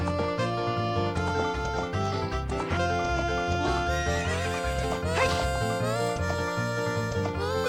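A horse in the Ocarina of Time video game whinnies and clops its hooves over continuous game music, the sounds close and fairly loud with no voices.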